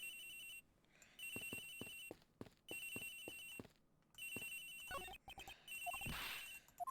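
A phone rings in the video game Ace Attorney Investigations, sounding as a repeating electronic trill in long bursts with short gaps, steady and moderately loud, with some clicks and a brief whoosh toward the end.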